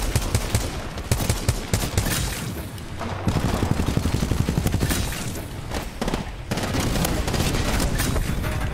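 Dense, rapid gunfire from a shooter video game, Titanfall 2, loud and continuous with booming bursts and a brief lull near the middle, and a player's voice cutting in now and then.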